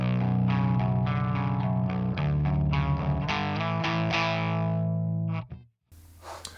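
Electric guitar playing a clean tone through the Blood Path impulse response from a Cleartone Grindstein, a run of ringing strummed chords with effects coloring, close and steady before cutting off abruptly.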